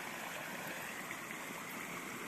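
A small stream flows steadily, a constant soft rush of water with no voices, even and unbroken throughout.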